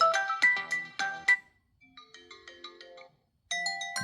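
A Unihertz Titan 2 Android phone previews ringtones: bursts of bright chiming melody, a softer plinking tune, a brief silence, then another loud chime sequence, close and clear.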